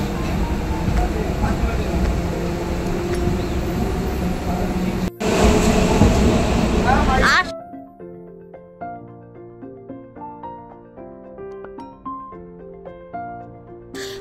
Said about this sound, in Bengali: এই যে ট্রেন ছেড়ে দিয়েছে এখন